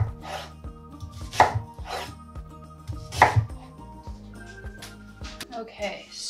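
Onions chopped with a knife on a board, a series of close, sharp thumping cuts at an uneven pace, with a voice speaking over them.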